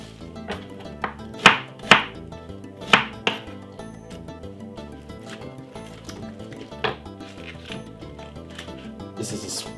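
White onion chopped on a board with a knife for a Jamaican marinated stew chicken, a series of crisp close knocks bunched in quick bursts, then scattered and fainter toward the end, with faint background noise.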